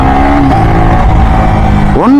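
A Yamaha R15 V3, a light 20 bhp motorcycle, drones loud and close at steady engine speed while riding, then revs sharply upward near the end.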